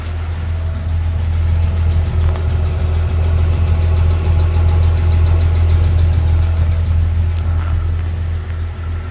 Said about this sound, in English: The old motor sounds great in this thing.